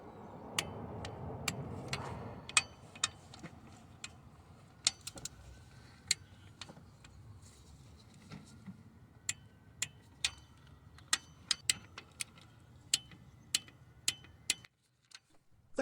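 Bolts on a Ford engine's cylinder head being tightened with a torque wrench, giving a string of sharp, quiet ticks and clicks at uneven intervals over a low background hum.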